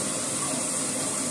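Water gushing into a toilet bowl during a flush, a brief, loud, steady rushing pour heard up close with no voices.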